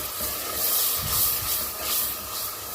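Onions sauté in a pan for a dried-meat bean dish, giving a steady bright sizzle and hiss that swells and eases in gentle waves, close by with no talk.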